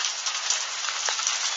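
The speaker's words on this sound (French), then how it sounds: "C'est quoi cet orage de grêle?" Dense hailstones around 1 cm across fall in a steady, loud hiss during an intense hailstorm in Tour-en-Sologne, France, pelting surfaces close by without pause.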